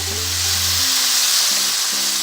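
Loud, steady sizzling as tomatoes hit a hot pan for moussaka, a constant hiss with low hum in the background.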